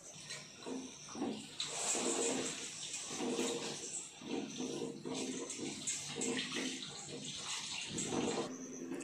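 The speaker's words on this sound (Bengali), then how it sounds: "এটাকে একটু একবার বা দুবার ধুয়ে, এই চিড়েটা বেশ খুব একটা নোংরা না" Water splashes and trickles over flattened rice (poha) being rinsed in a strainer, in uneven bursts of running and sloshing water close by, with faint background sounds.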